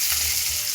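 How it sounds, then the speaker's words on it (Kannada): Garlic cloves and broken green chilies fry in a hot pan with a loud, steady sizzle close up, continuous throughout. "ಇದಿಷ್ಟು ಚೆನ್ನಾಗಿ ಹುರಿಬೇಕು"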